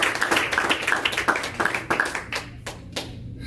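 Congregation applause and rhythmic hand clapping at a Spanish-language church service, steady and close for a few seconds, then thinning out into scattered claps.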